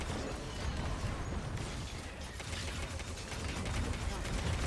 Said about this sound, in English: All the explosions, chain explosions.